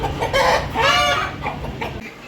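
Several chickens cluck and squawk close by in a busy, overlapping run of calls, with a brief crow-like cry in the middle.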